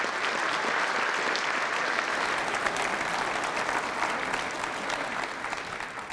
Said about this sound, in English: may I ask you to give yourselves a big round of applause as well